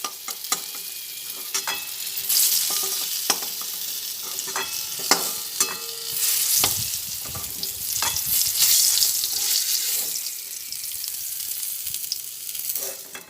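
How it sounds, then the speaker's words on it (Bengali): Pointed gourd (potol) pieces frying in oil over a low gas flame, a steady close sizzle with bursts of crackle and occasional scrapes of stirring, no voices. "আমি গ্যাসের ফ্লেমটা একদম কমিয়ে দিয়ে এটা ভেজে নিচ্ছি"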